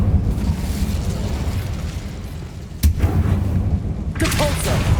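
In Hogwarts Legacy, an Incendio fire spell erupts with a sudden sharp burst and roaring rush that flares again near the end, loud and close over the game's rumbling background.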